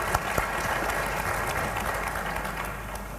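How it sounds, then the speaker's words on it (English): Audience applause at an international workshop on gender and cybersecurity, a steady dense wash of clapping filling the room from start to finish at an even level. "give them an applause."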